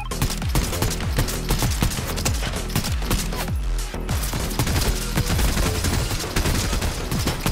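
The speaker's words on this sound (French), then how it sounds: "Ça tire dessus." Dense, continuous gunfire from a Fortnite match, with rapid overlapping bursts and shots forming a loud, steady fusillade throughout, no speech over it.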